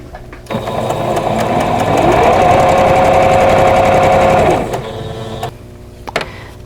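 Continuous close whir of a sewing machine stitching quilt squares right sides together onto rectangles, one sustained run of about four seconds with quieter fabric handling on either side.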